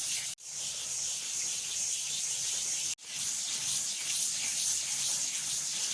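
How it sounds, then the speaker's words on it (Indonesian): Steady, close abrasive scrubbing on a martabak manis baking pan, a continuous rough rubbing hiss broken by two brief pauses, with no talking. "Jadi saya akan gosok seperti ini ya. Ini terus saya gosok."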